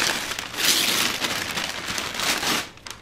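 Christmas wrapping paper being torn off a present, a steady broadband crinkling and ripping that swells and fades over a few seconds, close by, with excited voices nearby.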